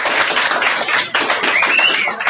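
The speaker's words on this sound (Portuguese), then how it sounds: "Uma salva de palmas para você" Continuous, dense clapping from a classroom audience, steady and lively throughout with a brief dip midway, and a faint whistle near the end.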